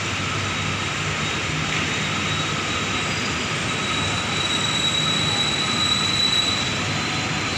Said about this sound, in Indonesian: Kereta api senja sudah mulai bergerak untuk menuju Jakarta.